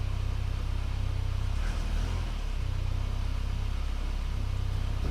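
Steady engine of a 1987 VW Cabriolet with a manual transmission, running in first gear, a continuous low hum and drone at even volume throughout, with no voices.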